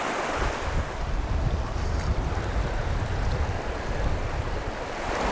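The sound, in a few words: strong gusty wind outdoors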